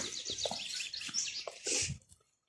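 Small birds chirp and tweet outdoors in early spring woods, quick repeated high calls at moderate distance, with light rustling before the sound fades out.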